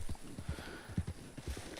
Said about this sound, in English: Just have to run slow with our horse through here